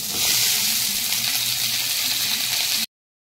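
Potatoes and kohlrabi drop into a pan of hot oil with onions, setting off a loud, close, steady sizzle that hisses continuously before cutting off abruptly.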